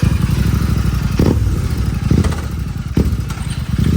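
Royal Enfield GT 650 parallel-twin motorcycle running close by, a loud, steady low engine rumble with a few heavier throttle pulses and mechanical clatter, no voices.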